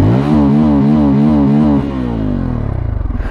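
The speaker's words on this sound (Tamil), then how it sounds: "வாங்க இன்ஜின் சவுண்டு அதான் எக்ஸாஸ்ட் கேட்போம்." Bajaj Pulsar N250 motorcycle engine running loud and close, a steady idle with a deep, even exhaust note that pulses more rapidly toward the end, with no talk over it.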